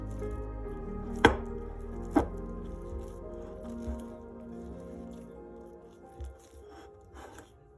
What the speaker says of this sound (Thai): จะนวดด้วยมือนะคะ